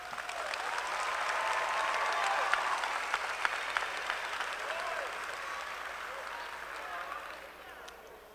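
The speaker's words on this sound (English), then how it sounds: "So give yourself a round of applause." Graduation audience at a high school ceremony applauding, a sustained wash of many hands heard from a distance, swelling slightly then slowly fading, with faint voices mixed into the crowd.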